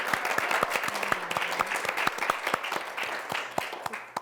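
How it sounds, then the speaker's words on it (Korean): Steady applause from a lecture audience, many hands clapping together in a dense, sustained patter that fades slightly toward the end. "다시 한번 뜨거운 박수 부탁드립니다"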